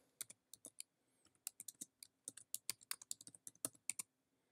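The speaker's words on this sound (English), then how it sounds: "And then I can just type my name." Quick bursts of key clicks from a computer keyboard as a name is typed, in irregular clusters of taps with short pauses between them, close and fairly quiet, with no voices.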